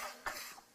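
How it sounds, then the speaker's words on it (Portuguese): A single brief, faint cough in a stage performance, quiet and set against low room sound. "que essa tosse certamente é emprestada"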